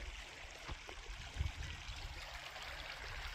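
A creek flows nearby with a faint, continuous trickle and gurgle, heard alone with a couple of soft low thumps.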